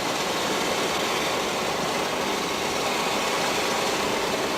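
Cooling air blower running on a motorized skate braking test rig in 1997, a steady loud broadband rushing roar that holds without change throughout.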